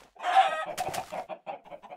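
Chicken clucking in the video game Minecraft, a string of short clucks that builds into a brief squawking burst before settling into a steady run of close clucks with no talk over them.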